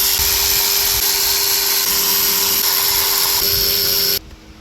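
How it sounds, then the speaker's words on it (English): A loud, continuous whirring power tool with a 5/16 bit unbolting the valve cover bolts on a 2005-2010 Ford Mustang 4.0 V6, running steadily up close before cutting off abruptly near the end. "take your 5/16 and go ahead and start unbolting the valve cover"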